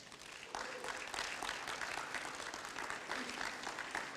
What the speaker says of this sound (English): Please welcome, with a round of applause, to Dr. Frank Islam.